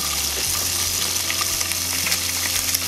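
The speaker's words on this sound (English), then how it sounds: "then you just add a little bit of oil and then you put on the asparagus" Asparagus sizzles steadily in oil in a pan after meat has been cooked in it, a close, dense frying crackle that continues throughout with no voices.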